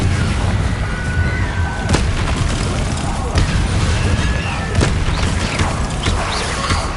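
Confringo blasting spell explosions in Hogwarts Legacy on PS5, several sharp booming blasts going off irregularly over a dense, continuous rumble of game combat noise.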